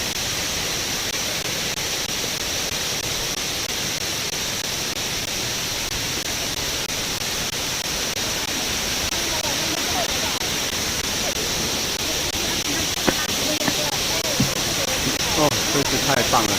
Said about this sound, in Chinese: 现在好多人在观看上层瀑布的瀑布美景。